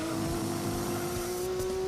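A race car in Gran Turismo 2 spins out, its engine holding a steady loud drone with tire noise and rumble underneath, no voices over it.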